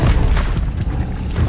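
An Expelliarmus spell effect in Hogwarts Legacy, a short, loud, deep booming burst with heavy low-end rumble, continuous through the moment.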